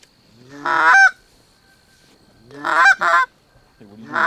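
Geese honk loudly in a few short bursts of overlapping calls, separated by quiet pauses, fairly close, during a foggy early-season goose hunt from layout blinds.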